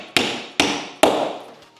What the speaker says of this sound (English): And then you take a hammer, preferably a bigger one, so it's easier